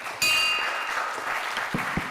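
A handbell rings out once with a bright metallic clang at a club meeting, its tone sustaining and slowly fading under room noise, with a couple of soft thumps near the end.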